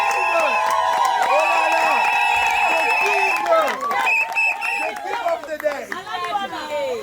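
Wedding guests cheer and shout together, loud and close, with whoops and excited voices rising in a lively burst that fades toward the end.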